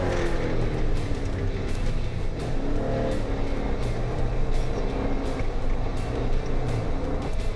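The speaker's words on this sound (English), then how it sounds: "I'm actually giving it a little bit too much throttle now, and actually over revving a little bit between shifts" A Jeep Wrangler JK fitted with a throttle response controller drones continuously as its engine revs through gear shifts. The steady, full engine sound stays close, with no talking over it.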